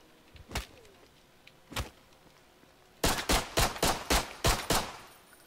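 Gunfire in the zombie video game Contagion: two isolated shots, then a rapid string of about seven sharp, loud reports in quick rhythm, with no talking.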